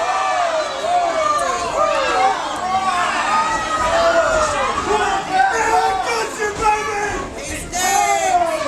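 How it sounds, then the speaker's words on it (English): A frenzied wrestling crowd in Mount Sterling, Kentucky, yelling, whooping and chanting as a dense, steady wall of overlapping voices that rises and falls throughout. "you can hear this frenzious crowd here in Mount Sterling, Kentucky, letting him know they want this shirt to go back on"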